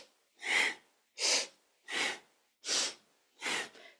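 Forceful rhythmic breathing during a kundalini yoga stretch, five loud nasal breaths evenly spaced about every 0.7 seconds, close up with silence between.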